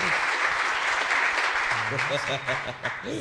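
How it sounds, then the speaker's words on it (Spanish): A studio audience claps on a Latin morning show featuring a salsa singer, dense steady applause with a voice talking over it partway through. "Todos, todos, aplaudan."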